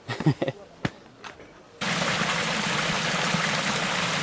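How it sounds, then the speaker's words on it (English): After a few clicks and knocks, a loud, steady rush of rainwater starts suddenly down a small man-made channel on Kilimanjaro and continues without letup, close by. "all the water came down in a flash down this little man-made channel"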